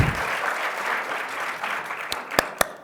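Audience at a book presentation for Sergio Ramírez's El caballo dorado at the FIL Guadalajara claps in a steady, moderate round that thins out toward the end, leaving a few sharp, isolated claps.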